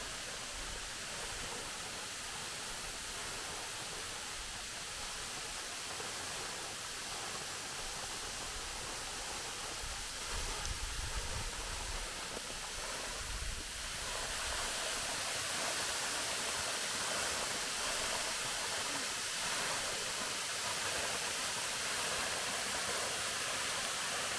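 Değirmendere Waterfall in Turkey roars continuously, a dense, steady rush of falling water with no other sounds.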